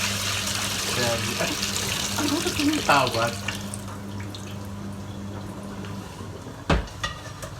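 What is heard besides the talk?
water being drained from a soaking bowl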